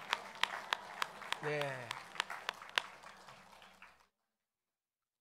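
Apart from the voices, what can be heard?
congregation applauding in church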